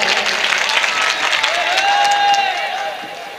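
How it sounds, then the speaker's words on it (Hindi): Mushaira audience clapping for a poet, a dense burst of applause with a faint voice and a rising tonal whistle mixed in partway through. "एक बार तालियां बजा के इजाजत दे दें।"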